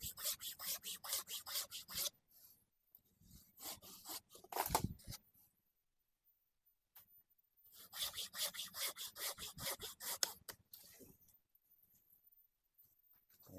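Hand saw cutting through a thick bonsai tree branch, steady rhythmic back-and-forth strokes in two bursts separated by quiet pauses, close and clear.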